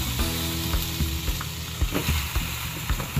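Salmon sautéing in a pan gives a steady soft sizzle with intermittent clinks and scrapes of stirring, moderately quiet and without talk.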